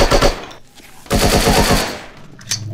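Rapid automatic gunfire from the Striker shooting game, two loud bursts of machine-gun fire separated by a short lull, with a faint shot at the end.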